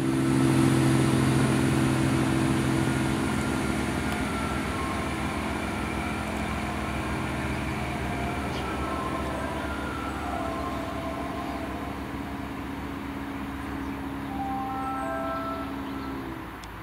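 A train leaving Tondu and heading toward Sarn rumbles with steady low engine tones that slowly fade as it pulls away into the distance, with no voices.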